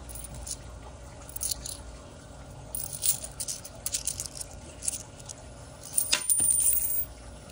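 Commemorative 25-cent Celia Cruz coins being handled and dropped, producing a scattered series of bright metallic clinks and jingles, with a louder cluster of rattling impacts near the end, close up and with no talking.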